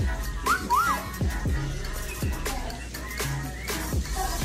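A person whistles a couple of short rising-and-falling notes, fairly quiet against a busy background with thumps and handling noise.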